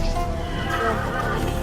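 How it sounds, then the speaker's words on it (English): A flying horse in Call of Duty Zombies neighs, one loud, close whinny over steady game background noise, with no talk. "Oh, Flying horse."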